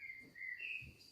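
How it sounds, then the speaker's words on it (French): A blackbird sings brief whistled phrases outdoors alongside chirping crickets, the birdsong soft and somewhat distant over a low steady background hum. "c'est l'heure du merle"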